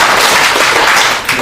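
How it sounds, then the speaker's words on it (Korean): An audience at a Korean press conference claps together, producing loud, dense bursts of hand claps that blur into a brief, sustained crackle without speech. "박수 한번 세 번만 쳐보겠습니다"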